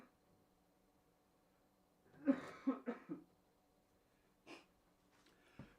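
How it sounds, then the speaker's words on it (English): A person who is sick coughs several times in a quick, close burst, followed by a shorter single cough a moment later and faint breathing in an otherwise quiet room. "Gotta cough a bunch."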